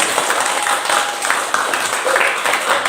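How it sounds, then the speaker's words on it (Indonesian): Students in a classroom applaud a presenting student group, a steady wash of many hands clapping at moderate loudness that fills the whole moment without a break. "berikan tepuk tangan untuk mereka"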